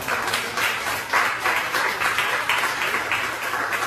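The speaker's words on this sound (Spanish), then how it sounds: "Denle una fuerte ofrenda de palmas a nuestro Señor Jesucristo." A church congregation at a Bible study service claps together in a fairly loud, rhythmic burst of applause lasting a few seconds, with no speech over it.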